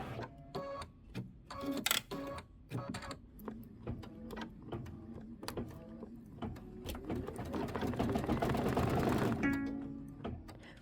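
An embroidery sewing machine stitches in quick, rhythmic bursts of needle clatter, with short pauses between runs and a steadier, louder whirring stretch near the end.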